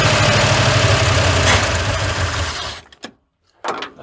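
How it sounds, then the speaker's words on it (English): A 1981 Ford F100 with a 351 Windsor V8, long left sitting, runs at a rough idle, loud and close, then cuts out into silence before a brief sputter of it catching again. "let me idle her down a little bit here."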